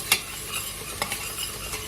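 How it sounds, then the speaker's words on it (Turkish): Soft sizzling of onions frying in a pan with a few sharp scraping stirs, close by and fairly quiet, no voices. "soğanımız kavruluyor."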